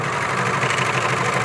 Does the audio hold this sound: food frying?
no